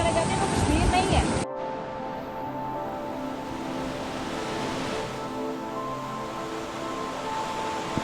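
Steady broadband rush of the Neelum river flowing alongside a hiking trail toward Jalkhad in the Neelum valley, Kashmir, continuous and fairly close, with a louder burst of wind or handling noise in the first second and a half.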